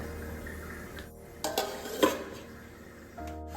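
Spices for a fish curry are stirred and fried in a pan, with soft scraping of a utensil against metal and a low background sizzle, broken by a few louder clinks and knocks, close up with no talking.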